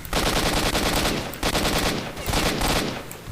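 Continuous rapid gunfire in S.T.A.L.K.E.R.: Shadow of Chernobyl, dense bursts of automatic shots rattling loudly with brief dips, like a game firefight.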